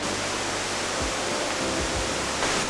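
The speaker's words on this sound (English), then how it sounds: "then you just have this waterfall going through with the pretty green, cloudy water" A waterfall pours with pretty green, cloudy water in Bohol, Philippines, a loud, dense, steady rushing roar filling the whole clip, with a few low thumps near the microphone and no talking.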